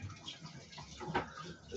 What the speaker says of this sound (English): Just give that a rinse